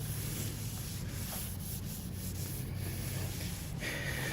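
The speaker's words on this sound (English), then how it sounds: "A little bit of more alcohol on it. And we're going to go ahead and wipe it down again." A cloth dampened with alcohol wiped across the quarter panel of a 2003 Cadillac CTS during pre-filler prep, a soft continuous rubbing swish with slight strokes, close and fairly quiet.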